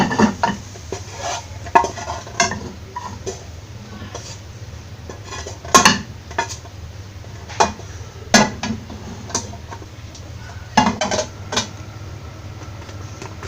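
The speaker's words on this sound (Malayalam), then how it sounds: "ഇതൊരു പാത്രത്തിലേക്ക് മാറ്റി വെക്കാം." A spatula scrapes and clinks scrambled egg out of a pan into a dish for egg fried rice, in a string of sharp metallic knocks and scrapes spread irregularly over a quiet kitchen background.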